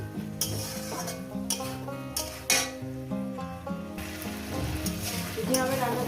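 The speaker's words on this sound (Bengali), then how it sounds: "একটু কষিয়ে নেবো মিনিট মিনিট এক ধরে এক থেকে দেড় মিনিট এটাকে কষিয়ে নেবো" Potato and spinach with small mourala fish fry in a pan, a bright sizzle under clanking stirs of a utensil against metal, with background music playing throughout.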